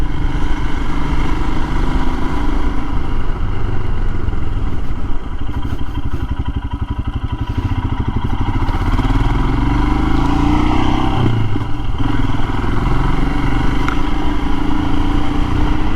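Royal Enfield Himalayan motorcycle ridden on a bumpy road, a loud steady engine drone with wind rush and rattling knocks from the rough surface, close throughout.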